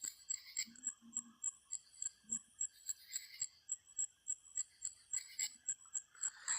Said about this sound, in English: Get to hear the crickets and the frogs and the mosquitoes buzzing in my ear.